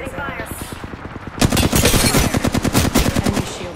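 Rapid automatic gunfire from the video game Apex Legends bursts in loud and close after a quieter opening, continuing as a dense, rattling string of shots to the end.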